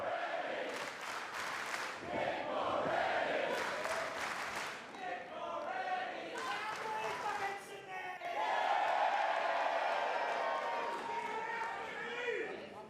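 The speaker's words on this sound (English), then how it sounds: "Listen to this Sydney crowd." A live wrestling crowd in Sydney cheers and yells in a dense, sustained roar, with swells of shouting and applause and a commentator talking over it.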